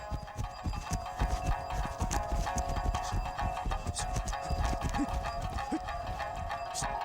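Horse hooves clip-clop steadily in a quick walking or trotting rhythm on a Nepalese mountain trail, close and continuous over a dense bed of background sound and music.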